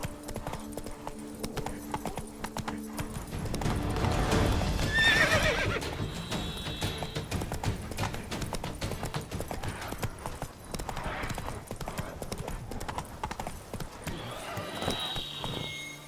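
Roach the horse in The Witcher 3 trotting with steady, close hoofbeats, and a loud whinny rising near the middle amid game ambience.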